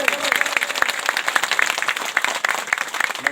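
An audience at a Sarna community gathering in Lohardaga claps in a lively burst of scattered, overlapping hand claps that carries on steadily, with faint murmuring crowd noise underneath.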